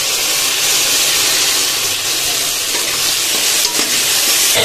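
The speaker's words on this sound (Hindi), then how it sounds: "अब इसमें हम लहसुन, अदरक और धनिया और हरा मिर्च का पेस्ट हम इसमें ऐड करेंगे।" Garlic, ginger, coriander and green chili paste fry with browned onions in a pan for a loud, continuous sizzle and hiss, with a stirring scrape close by and no talking.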